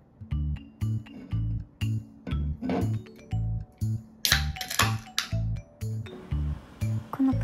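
A can of Kinmugi beer pops open with a short sharp hiss over a steady, rhythmic low-pitched background beat.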